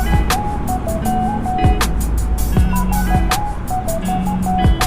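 Heavy stop-and-go traffic on EDSA near Kamias and Kamuning in Metro Manila: a constant low road rumble with repeated electronic beeps, warbling tones and sharp chirps from nearby vehicles, loud and close, with no talking.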